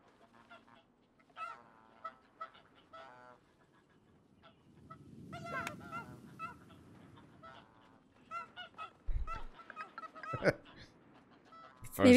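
Cartoonish goose honks from the video game Knights and Bikes on Penfurzy Island, several short nasal calls scattered across the clip amid game music and effects, with a few louder bursts near the end.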